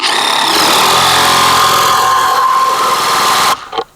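A DeWalt 20V impact driver tightening a bolt hammers loudly and continuously for about three and a half seconds, then cuts off sharply, leaving a brief faint tail.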